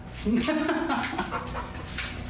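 An excited, highly food-motivated dog whimpers and whines over cheese treats during training, making high, wavering cries close by, with a person's voice partly mixed in.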